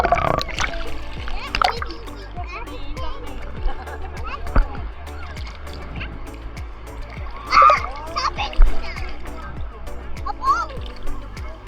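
Ocean waves splash and wash ashore at a Florida beach in repeated bursts, close and lively, while children and adults talk and exclaim excitedly throughout.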